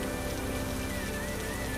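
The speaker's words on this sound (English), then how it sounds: "It rained on the earth 40 days and 40 nights." Rain falls in a dense, steady hiss that stays loud and even throughout, with a faint tonal hum underneath and no voices.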